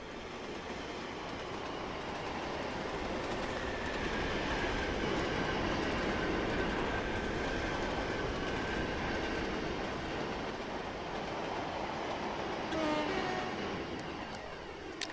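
Several trains in a Trainz railway simulation roll past in a continuous, fairly loud rumble of wheels and wagons, with a faint horn-like tone sounding partway through.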